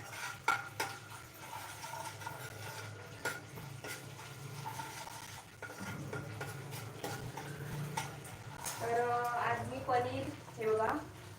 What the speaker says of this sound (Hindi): अद्रक लसणाची पेस्ट तेलामध्ये छान परतून घ्यायची